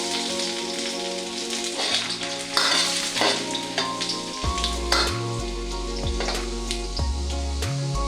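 Kashmiri red chilies and chopped garlic frying in hot oil for restaurant-style chilli chicken, a dense close crackling sizzle with scattered pops and spatula scrapes, steady throughout with no talking.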